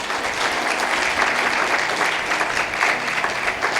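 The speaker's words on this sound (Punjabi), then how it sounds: "ਤਾਲੀ ਮਾਰੀਏ ਜ਼ੋਰ ਦੇ।" Dense applause from a congregation at a sermon, sustained loud clapping that fills the whole stretch with an even, crackling texture.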